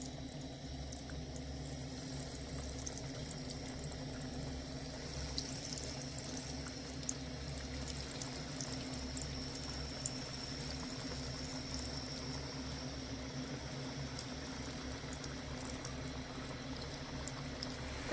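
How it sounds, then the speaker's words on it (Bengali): Bengali aloo chops made with drumstick flowers fry in medium-hot oil, giving a steady, even sizzling hiss that holds at a moderate level throughout, with no voices. "এবারে চপগুলো এক এক করে তেলের মধ্যে ছেড়ে দেব।"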